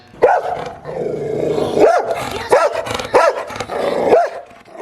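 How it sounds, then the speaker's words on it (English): A dog barks loudly and repeatedly, about five sharp barks spaced across the clip over a constant background din, with no talking. "A dog barks when his master is attacked."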